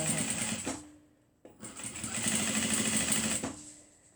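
Sewing machine stitching a foldover clutch purse in two steady runs of rapid mechanical whirring, separated by a short pause, loud and close.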